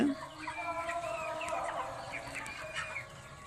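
Broiler poultry chickens on a farm clucking and calling together, a busy fairly faint flock chatter with scattered higher cries over steady background noise.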